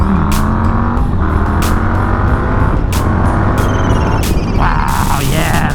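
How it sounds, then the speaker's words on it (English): An Indian FTR 1200 motorcycle with a 1200 engine accelerating hard on the road, a loud continuous engine roar rising through gear changes with heavy wind rush, close to the rider. "This bike accelerates pretty hard, man."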